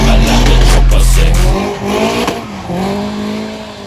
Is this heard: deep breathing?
no